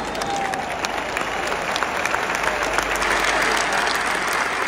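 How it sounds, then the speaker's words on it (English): Football crowd at Napoli's ground applauds at full time, a broad wash of clapping from all around the stadium with a constant roar of the crowd beneath it. "That's full time. Claps all around the ground."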